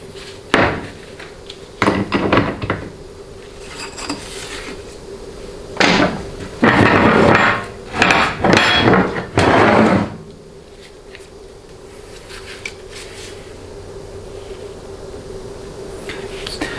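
Loud, irregular metallic bangs and clattering on the rear of a 4L60E automatic transmission during teardown, coming in bursts with short rapid clusters separated by quieter stretches of low shop hum.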